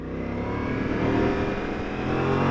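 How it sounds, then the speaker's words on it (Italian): A Ducati Multistrada V4S engine roars up close in sport mode, its pitch climbing steadily under hard acceleration with a rough, throaty drone and wind rush. "sentite che motore quanto spinge"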